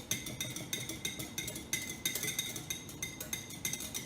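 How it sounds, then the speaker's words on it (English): Royal icing is whisked hard and fast in a bowl, producing a quick, steady run of light clinking taps, fairly faint and close, with no talking. "You have to whisk hard and fast, like so."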